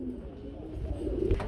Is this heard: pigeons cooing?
yes